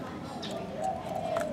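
A spotted dove, a wild-caught decoy bird from Phu Yen, coos in low repeated notes under steady outdoor noise and someone talking.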